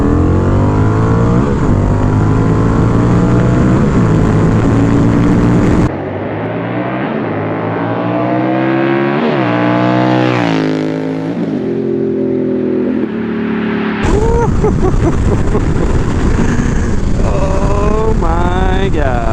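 A Honda Rebel 1100 motorcycle fitted with a new aftermarket exhaust makes a roaring flyby, passing traffic noise first, then the bike's revving engine sweeps past loud and close with a rising and falling pitch before fading.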